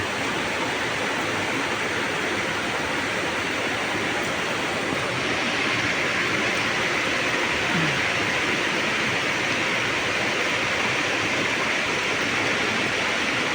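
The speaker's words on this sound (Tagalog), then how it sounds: "ayan malakas na yung ulan" Heavy rain pours down on a mountain trail in a steady, dense roar, loud and close, heard from shelter beneath a rock, with no break across the whole stretch.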